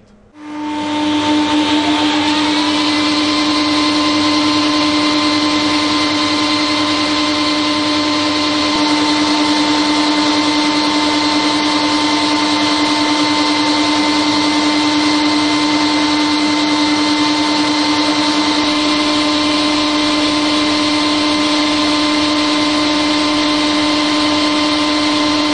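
A magnetic coupling pump on a test stand spins up and then runs at a loud, constant steady whine with a strong hum, unchanging and alone for the whole stretch.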